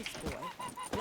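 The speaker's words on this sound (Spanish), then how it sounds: "¡Un pato! ¡Hay patos!" Geese honking in The Witcher 3, a few short nasal calls in quick succession, fairly close and clear over a busy game background.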